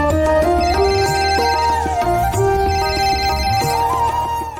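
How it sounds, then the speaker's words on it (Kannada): An incoming call plays a melodic ringtone on a phone, a loud, repeating electronic tune with sustained tones and a bass line, heard alone without any talk. "ಪಾರು ಫೋನ್ ಮಾಡ್ತಾ ಇದ್ದಾಳೆ"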